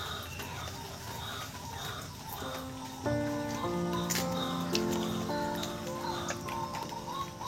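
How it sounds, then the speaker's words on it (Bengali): Birds call on a rainy day, giving repeated tonal chirps and calls that grow fuller midway. Faint ticking and soft background ambience sit beneath them. "পাখিরাও ডাকাডাকি শুরু করেছে"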